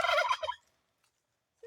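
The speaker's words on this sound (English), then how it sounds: "the turkey and the rooster were having a moment" A turkey gobbles in a loud, rapid, rattling burst lasting about half a second, then a long silence, and a brief start of another fowl call cuts in at the very end; the burst may overlap a rooster.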